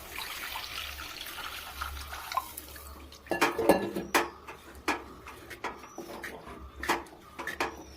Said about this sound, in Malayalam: ഒരു ഗ്ലാസ് വെള്ളം എടുത്തിട്ടുണ്ട്, അത് അതിലോട്ട് ഒഴിച്ചു കൊടുക്കാം